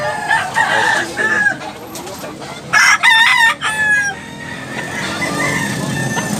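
Gamefowl roosters at a poultry stall in Tabunok, Cebu, crow loudly and close by, several overlapping calls rising over a background of clucking and farmyard murmur.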